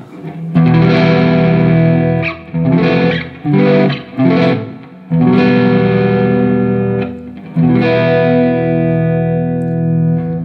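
Electric guitar played through a Uni-Vibe pedal with the vibe switched on, sustained chords and notes swelling and pulsing in a throbbing, slightly distorted wash, loud and close with no talking.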